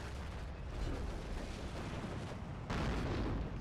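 Artillery fire in the WWII strategy game Steel Division II, a dense continuous rumble of blasts and booms with a louder burst near the end, no voices over it.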